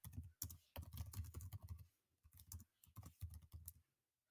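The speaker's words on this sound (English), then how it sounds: "Then I'm going to type," Keys clatter on a computer keyboard as text is typed into a document, close and quick, in two bursts of rapid keystrokes separated by a short pause, no talking.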